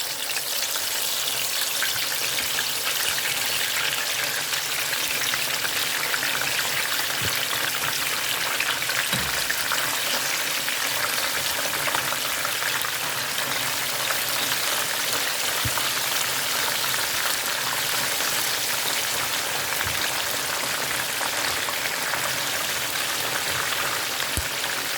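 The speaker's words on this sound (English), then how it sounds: "our next step is frying our chicken. I'm gonna put the chicken in there." Chicken pieces frying in very hot oil give a dense, even sizzle and crackle that holds steady throughout, close up, with a few small pops and no talking.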